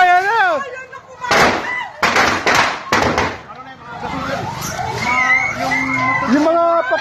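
Firecrackers burst near a fire, several sharp pops in a quick cluster, amid loud excited voices shouting and talking throughout.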